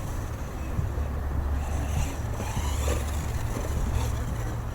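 An Arrma Typhon RC car with a 50K-weight center differential and new Impact tires runs around a track, its electric motor whining with some wind buffeting and rising and falling as it accelerates at a distance.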